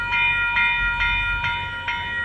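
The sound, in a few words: VIA Rail F40 locomotive train passing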